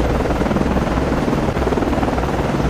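A helicopter launching from a destroyer in the naval game Cold Waters, its loud, steady rotor thrum dense and continuous throughout, with no voices.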